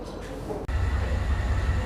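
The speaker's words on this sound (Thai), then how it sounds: "เห็นไหมคะข้างข้างหลัง รถไฟค่ะทุกคน" A train at a railway station gives a steady low rumble with broadband mechanical noise and a brief dip partway through, with faint background activity around it.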